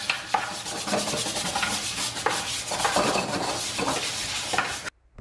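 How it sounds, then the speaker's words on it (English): A brush scrubs pink cleaning paste across a sink in brisk, continuous back-and-forth strokes, loud and close, then stops suddenly near the end, with no talking. "I just give the paste a good scrub with a brush on the sink"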